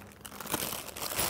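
Packaging around a TZ Audio Stellar X3 condenser microphone and its metal shock mount is unwrapped close up, giving a continuous crinkling and rustling with small crackles throughout.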